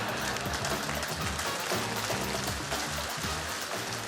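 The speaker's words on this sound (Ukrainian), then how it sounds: "ваші оплески" Steady, dense audience applause at a Ukrainian comedy show, loud and continuous without a break, with a rushing, rain-like wash of many hands throughout.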